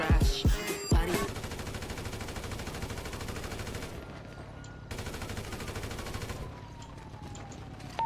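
Rapid video-game gunfire in GTA V aimed at a helicopter, with loud automatic bursts up close at first, then continuous rattling fire that briefly drops away and resumes.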